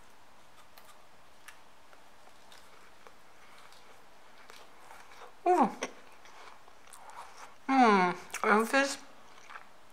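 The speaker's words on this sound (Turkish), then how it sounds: "Bir tane ısırayım. Siz beni göremiyorsunuz ama şu anda sesi duyabilirsiniz." Bites into a warm, crunchy homemade Turkish-style cookie, with a crisp crackle near 5.5 s and a louder crunchy burst of chewing around 8 s, set against quiet room noise; a voice speaks briefly.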